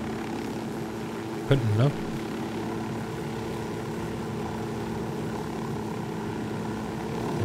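A helicopter in Ghost Recon Wildlands drones steadily with a constant low rotor and engine roar throughout, close and loud, while someone speaks briefly over it.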